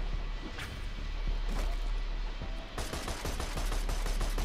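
Gunfire in Borderlands 2 comes as a steady stream of sharp, fairly loud shots, then turns into a dense, rapid burst near the end over continuous game noise.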